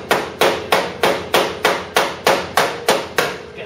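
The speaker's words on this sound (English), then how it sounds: "I'm going to tap it in at the top." Ten sharp, evenly spaced hammer taps drive upholstery tacks in at the top during a Ford Cortina GXL restoration, each blow close and crisp with a short ringing decay.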